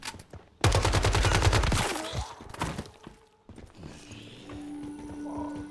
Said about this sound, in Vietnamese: Bắn không đã bằng cây súng lục anh em ơi.